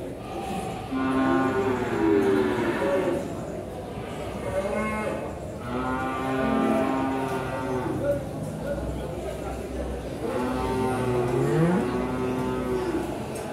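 Cattle at a livestock market repeatedly mooing, several loud drawn-out calls nearby with crowd murmur beneath.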